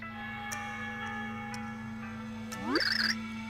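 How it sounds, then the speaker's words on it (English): Bells ringing in the Super Paper Mario video game, a steady tonal chime over a sustained background drone, joined near the end by a rising warbling game effect. "I hear bells."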